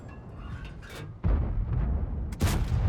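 Tank gun firing in World of Tanks, heavy low booms: one rumbling stretch, then a sharp loud blast around the middle and another burst near the end, with no voices.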